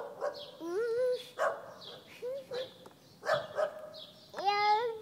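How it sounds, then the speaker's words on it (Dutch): A small dog barks and yips in short bursts near a playground, several sharp calls in a loose rhythm with whiny rising notes, fairly close and clear against a quiet background. "Daar is het hondje, Miekje."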